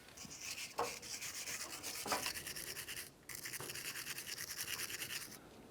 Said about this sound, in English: You can use a wire brush for this or some sandpaper.